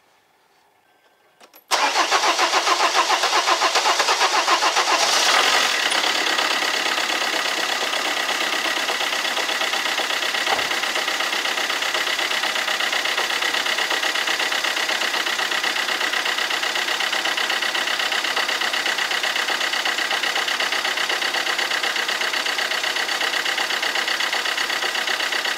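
A 1.3 CDTI diesel car engine cranks briefly, fires up and then idles steadily for over twenty seconds, loud and close, with a constant clattering diesel rumble.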